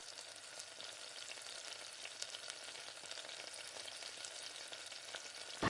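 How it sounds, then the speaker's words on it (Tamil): Onions, dried red chilli and mustard seeds sauté in hot oil with a soft, continuous sizzle and faint stirring, quiet and steady throughout. "வெங்காயத்தை கொட்டி நல்லா வதக்கி விடுங்க"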